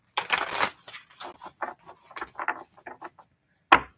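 A deck of tarot cards is shuffled during a reading, giving a burst of papery riffling followed by short, scattered card taps and slides, and one sharp snap near the end.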